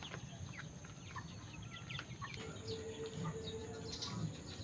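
Young pet chickens basking in the sun give off soft clucks and brief chirps, scattered and fairly close, over a steady outdoor background.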